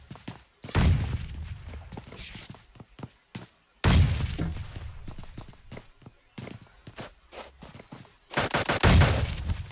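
Gunfire and grenade blasts fill a battle royale video game match, sharp loud bursts and rapid shots in clusters with footstep-like thumps between, under a caster's excited commentary.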